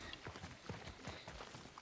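Horse hooves clip-clopping in God of War (2018), a steady run of soft repeated thuds over busy game ambience and music, fairly quiet.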